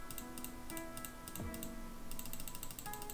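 Arrow keys on a computer keyboard are tapped in a steady series of light clicks, close and fairly soft, with faint mechanical ticking behind and no voices.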